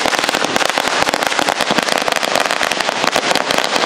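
Strings of firecrackers burst in rapid, dense crackling volleys at a BJP election victory celebration in Chikkaballapur, loud and unbroken throughout, with no voices.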